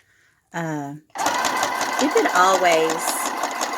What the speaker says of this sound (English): And let's just sew all the way across.